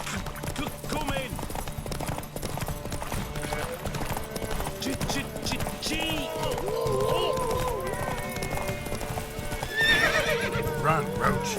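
Roach the horse galloping in The Witcher 3, steady clip-clop hoofbeats with a couple of sharp neighs toward the end, mixed under game voices and background sound.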